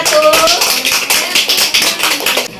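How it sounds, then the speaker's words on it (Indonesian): Classroom clapping for a student discussion group, a few hands tapping in uneven bursts, with brief voices and shuffling mixed in. "tepuk tangan untuk kelompok 1"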